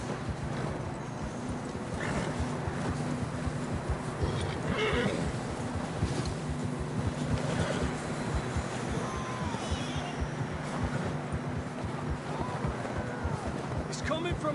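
Horses in the Red Dead Redemption video game, with occasional whinnies and hoof clip-clops over a constant low rumbling wind bed, fairly faint and distant, while voices talk over the scene.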